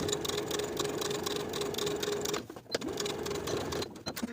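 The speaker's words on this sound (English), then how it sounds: "we're going to sew the bottom of the pocket with a 3/8 inch seam allowance" A sewing machine stitching the bottom edge of a pocket on pull-on pants with a 3/8 inch seam allowance, a loud, close, steady whirring hum that briefly stops mid-way, then restarts and runs on.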